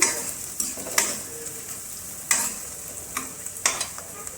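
Chopped onions fry on a low gas flame, a steady close sizzle with occasional sharp stirring scrapes against the pan and no talking.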